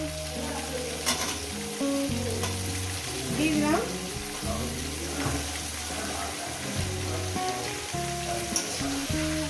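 Cauliflower and other vegetables fry in a kadai for fish-head chorchori, sizzling continuously up close with intermittent stirring clatter, light background music and a brief spoken remark.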